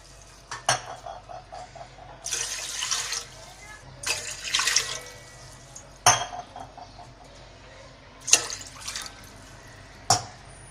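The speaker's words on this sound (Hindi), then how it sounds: "अब एक पतीली में तकरीबन 4 गिलास हम पानी डालेंगे।" Water is poured from a glass into a cooking pot in a home kitchen, about four times, in two splashing rushes between sharp clinks and knocks of metal and glass.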